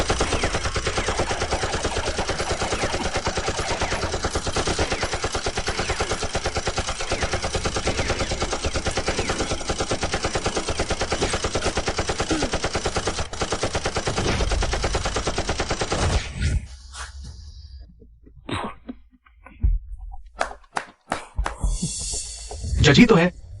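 Sustained machine gun fire roars in a dense, continuous barrage for most of the clip, then breaks into scattered bursts and sharp single shots with gaps of near silence, alongside voices and dramatic effects.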